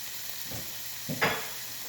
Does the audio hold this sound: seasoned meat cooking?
yes